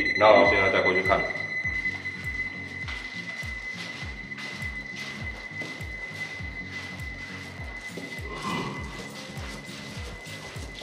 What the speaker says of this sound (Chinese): 这边还听得到哔哔哔哔的声音哦